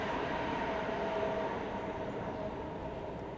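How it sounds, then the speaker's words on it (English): A BART train rushes past a residential property, a loud continuous roar of wheels and rail noise that holds steady and then eases slightly, with no one speaking. "the BART train goes right by. It's loud"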